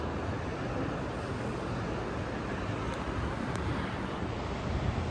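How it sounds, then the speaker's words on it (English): A river running high after several days of rain gives a constant, even rushing roar, moderately loud and unbroken, with no talk. "Now the river's up a lot. It rained pretty good last couple days."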